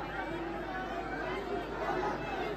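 Devotees crowd the gate of Chulkana Dham, a Shri Shyam Baba temple, producing a steady, dense murmur of chatter and hubbub that fills the space evenly with no single voice standing out.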